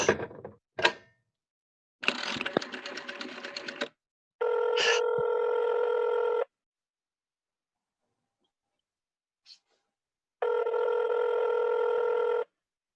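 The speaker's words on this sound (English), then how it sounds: "Operator, I've been dialing Murray Hill 70093 now for the last 3/4 of an hour" Radio play sound effects of a telephone being dialed: a few rotary dial clicks and whirs, then steady dial tone bursts with a long silent pause between them, all close and clear with no voices.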